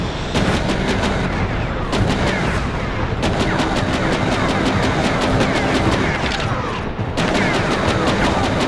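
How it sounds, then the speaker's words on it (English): Sustained gunfire, shell blasts and plasma weapon fire in the mecha combat game Mecha Knights Nightmare: loud, dense rapid bursts filling a street battle, with brief pauses between volleys and a constant roar throughout. "I love the way we can just hose down the entire street with bullets, shells, and plasma here"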